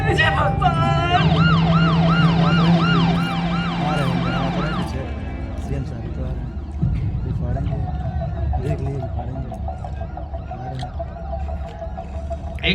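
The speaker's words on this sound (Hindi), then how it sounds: "सर ट्रैफिक में एम्बुलेंस फंसी है" An ambulance siren stuck in traffic wails in loud repeating rising and falling sweeps, then fades behind layered traffic noise and other horns while people talk and shout over it.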